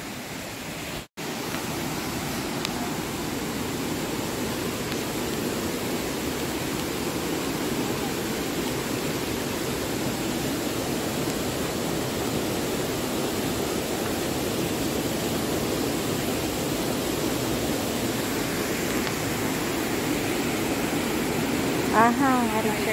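A waterfall on a tropical trek, heard as a constant broadband roar of falling water that stays steady and fairly loud throughout, with no clear talk over it.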